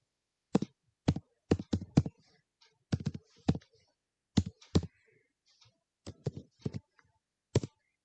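Computer keyboard keys click as code is typed, sharp, close keystrokes coming in quick bursts with brief gaps between them and no one speaking.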